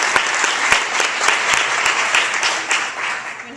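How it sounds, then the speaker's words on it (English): Audience applause honoring the Monument Crisis Center, close, loud clapping with a few distinct nearby hand claps standing out in a steady crowd ovation. "We applaud you."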